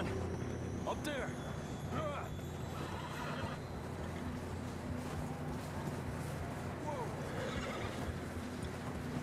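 In Red Dead Redemption 2, horses whinny and neigh in snowy mountain country while hooves clip-clop steadily beneath, a few neighs rising clearly above the bed of movement as voices talk throughout.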